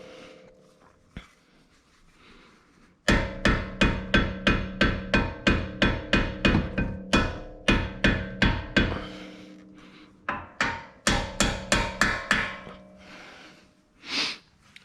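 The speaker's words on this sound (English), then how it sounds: "And then you're just gonna hammer in" Rapid, sharp metallic hammer strikes driving in a front brake pad pin on an Audi RS3, in two long steady bursts, close and loud, with a short pause between them and a faint breath at the end.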